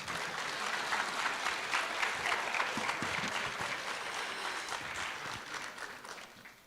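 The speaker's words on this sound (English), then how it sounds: "And now you may applaud." Audience applause for honor roll students at a high school recognition ceremony, a sustained, even wash of many hands clapping, moderately distant and fairly quiet, with no talk over it.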